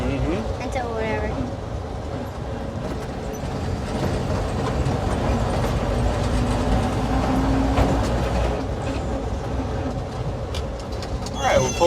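A 1948 Dodge B1-D one-ton wrecker truck engine drones steadily while driving, a continuous rumble with rattling road noise, and people talk over it.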